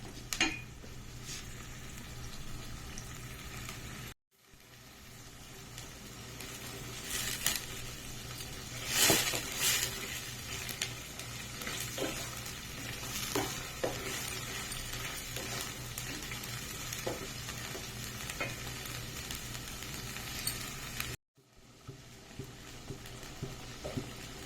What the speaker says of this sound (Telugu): లో ఫ్లేమ్లో పెట్టుకొని వేపుకోవాలండి, లేకపోతే మాడిపోద్ది